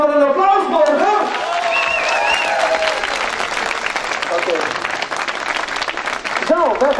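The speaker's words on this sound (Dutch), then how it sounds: "Geef hem nog maar een applaus, Borger." A crowd at a junior national championship event in Exloo, Netherlands, claps and cheers steadily while an amplified voice talks over the applause.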